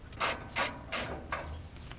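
A ratchet wrench loosening bolts on the transmission bracket of a Ford E250 van with a 4R70W transmission, four short close clicking ratchet bursts in an even rhythm, with no talk.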